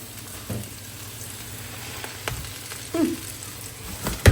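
Red amaranth greens frying in a pan, a steady low sizzle with a few stirring clatters and scrapes, close and moderate, no talking.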